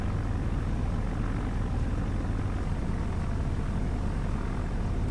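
A propeller airplane flies in the FlightGear flight simulator, giving a steady, even engine drone at moderate-to-low volume with no change in pitch and no voices.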